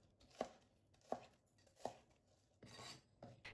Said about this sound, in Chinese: 跟着再把它像这样给它切成小段，这样呢可以切断纤维